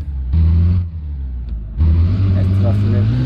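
Off-road truck in Offroad Simulator 2021 revs and strains through mud, its engine note rising and falling in two loud bursts with a brief lull between, with low droning tones and a voice talking over it.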